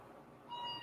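A pet cat gives one short, faint meow with a clear tonal rise, heard alone against a quiet indoor background.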